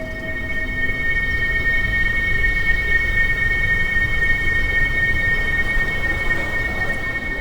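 Steady rumble of an Enoden electric train ride near Kamakura, Japan, heard from on board, with a continuous low roar and faint high whine running throughout, no talking.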